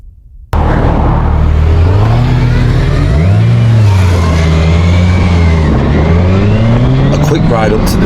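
Motorcycle riding up to a coastal viewpoint above a beach on Ireland's Wild Atlantic Way, its engine droning steadily and loud with shifting pitch as it climbs and varies speed, under constant wind rush.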